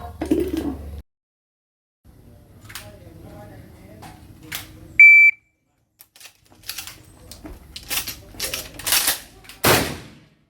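Benelli M2 SP / Nova Speed shotgun with a 24-inch barrel fired outdoors: a timer beep precedes a quick run of sharp, loud shots with brief gaps, amid quieter handling noise.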